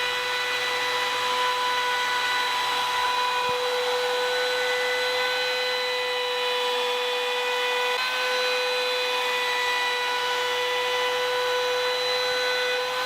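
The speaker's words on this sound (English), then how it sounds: "For me, I'm going to use my belt grinder." A belt grinder runs steadily while sanding a chamfer onto the end-grain edges of a wooden sanding disc storage rack, producing a loud, continuous motor whine with stable tones and a faint abrasive rasp throughout.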